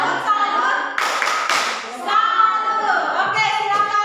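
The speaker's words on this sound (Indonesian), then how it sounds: "mari kita berikan tepuk salut untuk kelompok 3" A classroom group does a rhythmic 'tepuk salut' cheer for group 3: short, patterned bursts of clapping from the class, mixed with voices chanting in time.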